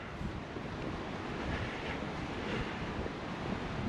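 River water rushing beneath a small bridge in the mountains along a highlands four-wheel-drive route, a broad constant roar mixed with wind buffeting the microphone, with no voices.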